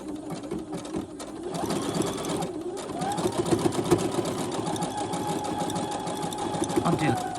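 A sewing machine runs a decorative stitch on fabric for junk-journal ruffles, with a steady close mechanical whirr and rapid needle patter that continues for several seconds at a slightly varying pace, while someone talks at times.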